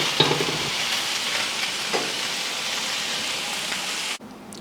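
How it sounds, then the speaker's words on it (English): Thai minced pork with wilted basil frying and being stirred in a pan, giving a continuous loud crackling sizzle with a few utensil scrapes before cutting off abruptly near the end. "Just stir it."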